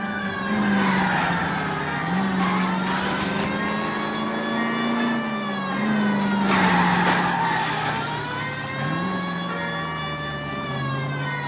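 Car in LA Noire driving hard, with a continuous engine drone and rising and falling tire skids, loud and close, and a wailing siren-like tone running through it.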